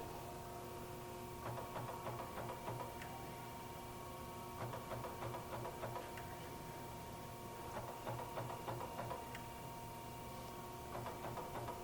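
A Chevalier 12 x 24 inch precision surface grinder with automatic incremental downfeed gives a steady, quiet machine hum, with faint clusters of small clicks returning about every three seconds.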